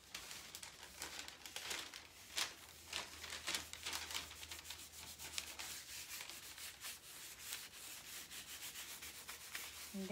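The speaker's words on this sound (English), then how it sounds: "And then just kind of smoothing out those wrinkles." Plastic wrap being smoothed flat by hand over a craft surface, a continuous soft rubbing and crinkling with repeated brisk strokes, close and fairly quiet, no talking.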